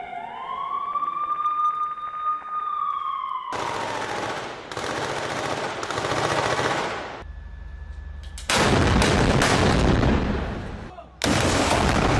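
Hamas fighters' rocket launcher attack on an Israeli military vehicle in Gaza: a rising siren wail, then several loud, harsh blasts and crackling bursts of fire in heavy clusters with brief pauses between them.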